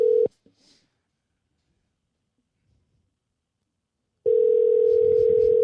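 A telephone dial tone sounds as a call is placed: a brief steady tone at the start, a long silence, then the continuous tone returns loud and close.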